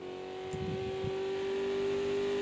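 A steady, droning prototype race car engine in a racing video game at Hockenheim hums at a constant pitch, moderately quiet, with no voices.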